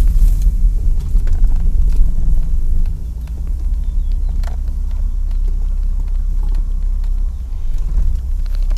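An army truck stuck in floodwater rumbles with a heavy, low, continuous engine drone, loud and close, with faint clicks and knocks scattered over the steady idle.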